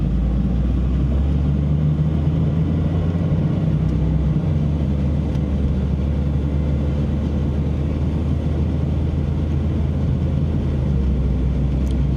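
Car with a crooked steering wheel backing out and driving slowly after a tire shop visit, heard from inside as a steady loud low engine and road rumble with no other clear sounds.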